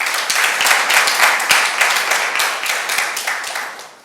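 Applause from a church congregation acclaiming the Lord, dense and loud from many hands, holding steady for several seconds before fading slightly at the end.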